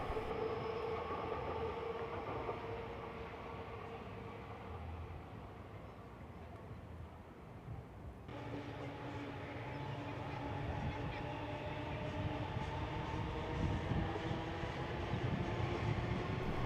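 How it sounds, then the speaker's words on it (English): Two Sydney A-set electric trains roll past Belmore station on the Bankstown line, a sustained rumble of motors and wheels that swells and shifts midway as the second set passes, with no talk. "we see two A-sets passing by"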